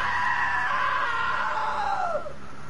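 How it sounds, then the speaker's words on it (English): A loud, sustained scream rising and then sliding down in pitch near the end, close and continuous for nearly three seconds with no other voices. "Now that was a great scream."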